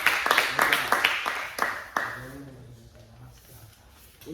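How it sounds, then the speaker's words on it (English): A small martial arts class claps briefly for themselves, a short burst of a few hand claps that dies away as people start talking. "give yourself a round of applause."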